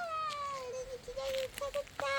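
A cat lets out a long, drawn-out meow that slides downward, followed by a couple of shorter meows, close by and fairly clear.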